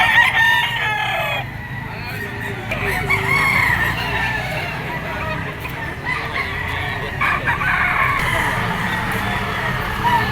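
Gamefowl roosters crow repeatedly at a poultry market in Lipa, Batangas, several birds calling over one another amid a busy crowd with people talking nearby.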